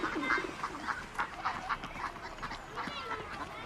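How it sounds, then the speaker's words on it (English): Ducks and other pond birds calling on a busy park pond, with a steady run of overlapping nasal quacks and squawks at close to middle distance over constant outdoor background noise. "the ducks and the other pond birds with all the quacking and the splashing that goes on all the time"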